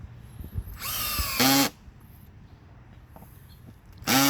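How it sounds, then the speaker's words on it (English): A power drill on its lowest setting drives a screw into wood, whirring in short bursts, revving up and stopping with quiet pauses in between, close by. "always set it on the lowest possible to drill through your wood"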